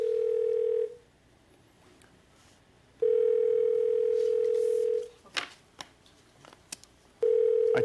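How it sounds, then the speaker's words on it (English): Steady telephone dial tone on a call home, sounding in three loud unbroken bursts separated by near-silent gaps, with a few faint clicks in between. "Can we get her on the phone, Ben?"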